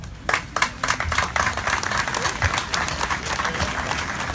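An audience at a county fair queen coronation applauds in a brisk, uneven patter of many hands, moderately close and steady for a few seconds, with some murmuring underneath.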